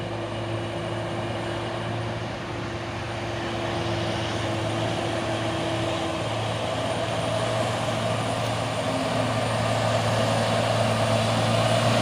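A Hino 500 trailer truck's diesel engine drones loud and steady nearby, a continuous low rumble that holds throughout, rising slightly toward the end, with no talking.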